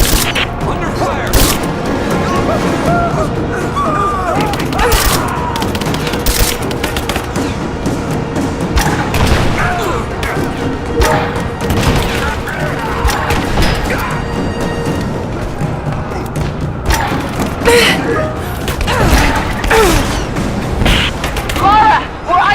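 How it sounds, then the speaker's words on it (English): Gunfire and explosions in the Rise of the Tomb Raider grand finale battle: loud sustained shooting with repeated heavy booms and crashes, dense and continuous, mixed with game voices shouting. "Get ready to fire another shot."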